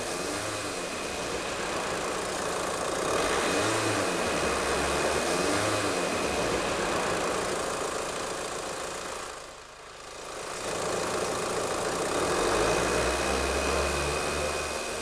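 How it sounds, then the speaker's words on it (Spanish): A TDI diesel engine runs steadily with a broadband mechanical roar that swells as it is accelerated, dipping briefly midway before rising again, with no talk over it. "Con el motor en marcha, observaremos una señal alterna que aumentará de valor y frecuencia a medida que vayamos acelerando."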